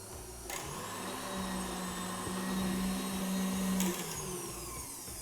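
Electric mixer whipping egg yolks and sugar in a bowl for zabaglione, a steady close whirring motor hum that runs throughout with a slight rise in pitch midway.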